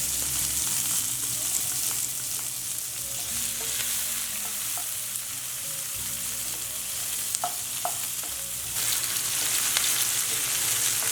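Onion and curry leaves fry in a pan for jowar upma, a loud continuous sizzle with scraping stirs and small clicks throughout.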